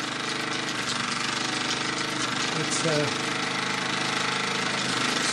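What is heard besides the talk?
Mamod SE2 model steam engine running with wet exhaust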